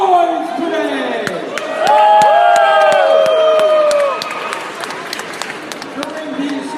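Wrestling show crowd cheering loudly and steadily, with whoops and shouts swelling to a peak in the middle before easing back to a lively roar, plus a few sharp claps scattered throughout.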